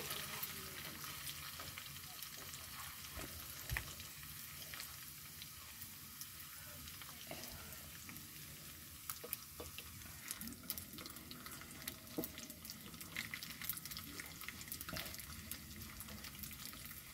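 Rice stirring as it fries for chal bhaja, a steady close sizzle with scraping of the stirring spoon against the pan, continuous and unbroken with no talk.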